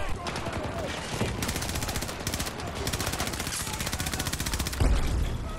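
Rapid automatic gunfire from Battlefield 2042 rattles in dense, fast bursts close up, nearly continuous across the stretch with a heavier boom near the end.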